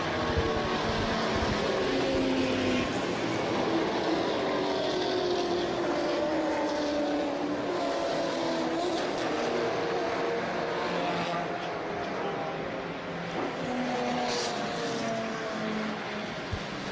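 Race cars, a little Subaru among them, drive around a circuit in an endurance race, their engines droning in steady overlapping tones with gradual pitch sweeps as they pass at a moderate distance.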